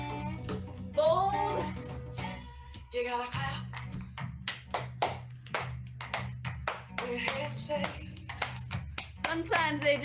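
Hands clap along in sharp, distinct bursts during a weekend broadcast activity, with a voice and other talking mixed between the claps; the claps come in uneven rhythmic groups, close and crisp over a low background hum.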